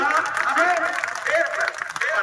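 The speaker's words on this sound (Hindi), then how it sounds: "तालियां कमजोर रह गई" Audience applause at a kavi sammelan poetry recital at the Mahavir Jhanda Mela in Sandila, a steady, dense wash of many hands clapping that runs the whole stretch while a voice carries on over it.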